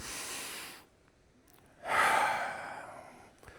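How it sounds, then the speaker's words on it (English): Deep cleansing breaths at the start of a box breathing exercise, heard as a near, airy inhale followed after a short pause by a long, audible exhale, with no talking. "So let's do a deep cleansing breath first."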